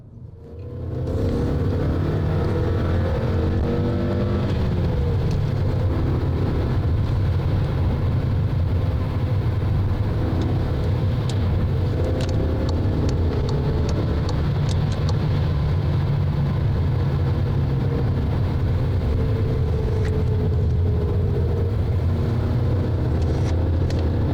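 A 2013 Skoda Octavia 1.8 TSI driven hard gives a steady loud engine drone and road rumble from inside the cabin, rising and falling gently with throttle over a long stretch with no talk.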